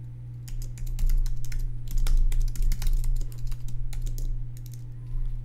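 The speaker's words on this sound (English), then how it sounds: "enter this password" A password being typed on a computer keyboard, a close run of quick, uneven key clicks in bursts over a low steady hum, with no talking.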